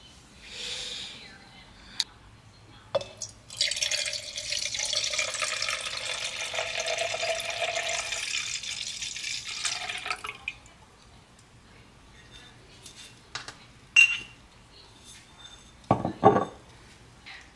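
Wine pours steadily into a glass for several seconds in a quiet room, followed by sparse clinks and knocks of dishes and a bottle being handled.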